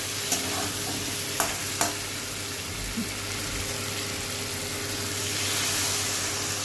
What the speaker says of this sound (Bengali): এর মধ্যে অ্যাড করব জল